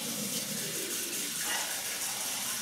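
Fresh water runs steadily from a tap into a basin during shaving preparation, a continuous soft gushing hiss heard up close without talk.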